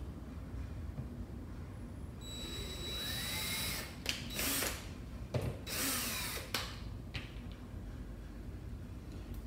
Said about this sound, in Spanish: entonces vamos a proceder aquí a atornillar